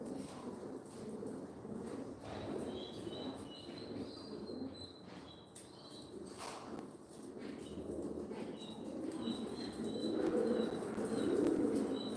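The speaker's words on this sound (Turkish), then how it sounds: "Güzel kuşlar uçuyor." Pigeons' wings flap in irregular bursts as they take off and circle in Mardin, Turkey, over a constant low outdoor rumble with faint higher squeaks and chirps.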